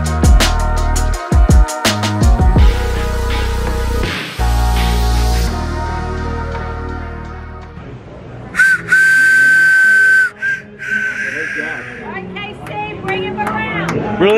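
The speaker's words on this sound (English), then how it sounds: "Really? You can't work a simple train whistle?" A train whistle, apparently a toy or novelty one, is blown several times in short tonal blasts with hissy noise, heard mid-range amid music and talk, ending in a sustained steady whistle tone.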